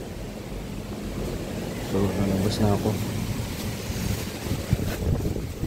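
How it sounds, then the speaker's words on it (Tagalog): Wind and large ocean waves pound a storm-hit coast in Bucana where houses and resorts were wrecked, making a steady broadband roar of surf and gusts while someone talks over it. "Sobrang laki ng alon."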